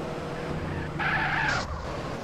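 A video-game car driving on burst tyres, its engine drone swelling into a short, harsh skid for about half a second before fading back.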